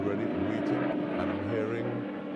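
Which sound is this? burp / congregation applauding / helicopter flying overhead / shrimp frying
helicopter flying overhead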